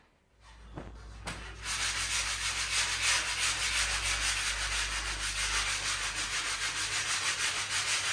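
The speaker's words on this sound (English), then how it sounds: "I gotta get back to sanding" Steady close-up sanding of interior walls in a living room makeover, a continuous dense rasping rub with a slight repeating pulse as the sander moves back and forth, no voices.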